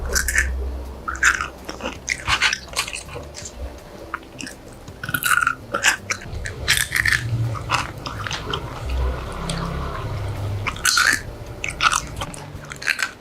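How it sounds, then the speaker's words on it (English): Crunchy home-baked plant-based chickpea snack being bitten and chewed up close, with repeated loud crisp crunches in irregular bursts and no talking. "I know I want to hear that crunch."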